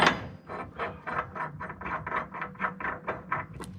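A ratchet clicks in quick, even bursts, about a dozen close, sharp strokes, while a bolt is driven in on a 2022 Kenworth W990 log truck build, with no talk.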